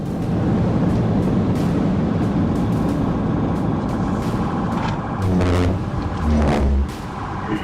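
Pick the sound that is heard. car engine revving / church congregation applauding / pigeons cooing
car engine revving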